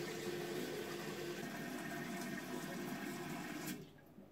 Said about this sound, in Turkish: Şu anda hazinemiz doluyor.